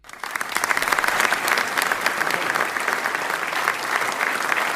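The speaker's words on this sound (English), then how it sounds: "So, another round of applause for Alum." A graduation audience breaks into sustained, dense applause for a valedictorian, many hands clapping together at a steady level from start to finish.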